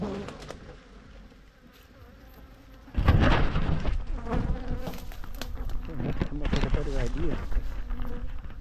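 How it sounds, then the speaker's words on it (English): Bees buzz in a dense swarm close by around a beehive being worked, a steady droning hum that grows louder partway through, with some rustling and movement noise. "these bees are swarming like"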